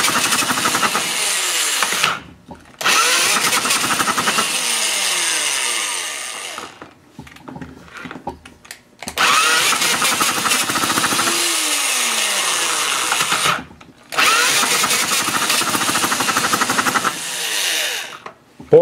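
Mini Hog 69 minibike engine revving in loud, buzzing bursts as the throttle opens bit by bit, with brief gaps where it drops away between runs.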